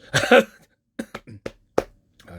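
Coughing from one person: a harsh burst of coughs up front, then several short, separate coughs with quiet gaps, close and clear.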